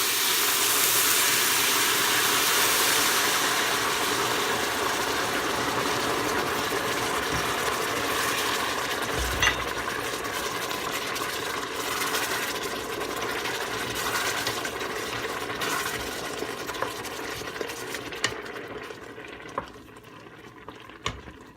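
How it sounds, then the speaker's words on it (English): Boiling water is poured into a pot of lentil soup cooking on a stove, making a steady, close rushing hiss that runs unbroken for about twenty seconds before thinning out near the end. "I prefer to add boiling water,"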